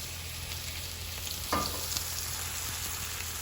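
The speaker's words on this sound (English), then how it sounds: "we're gonna really fry these plantains" Plantains fry in oil with a steady close sizzle and crackle at medium-low heat, plus a brief stir or scrape partway through.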